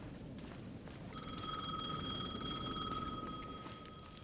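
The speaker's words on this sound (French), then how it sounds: "The payphone was ringing again." A payphone rings steadily in the video game Alan Wake II, a bright electronic bell pattern repeating continuously at moderate loudness over a low ambient rumble.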